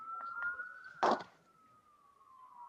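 A siren wails through a committee meeting room, a steady rising-and-falling tone that continues throughout, with a brief burst of noise midway and faint voices underneath.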